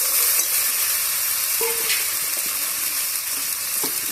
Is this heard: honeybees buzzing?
no